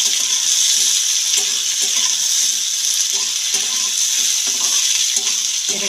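Onion and capsicum pieces fry in hot oil for a chilli mushroom dish, giving a steady loud sizzle with bursts of spatter and scraping stirs throughout, and no talk.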